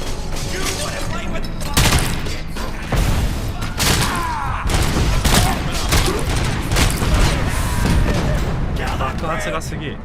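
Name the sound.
explosions in Robocop: Rogue City video game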